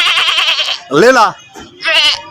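Goat bleating in wavering, harmonic calls, two loud bleats standing out between stretches of nearby voices, recorded outdoors at a lively spring festival gathering.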